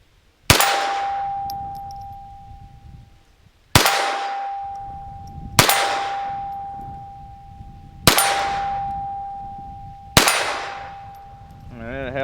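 A Beretta 71 pistol fires five sharp, loud shots at uneven intervals, each crack followed by a ringing metallic decay, with a faint voice near the end.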